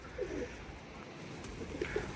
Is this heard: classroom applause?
no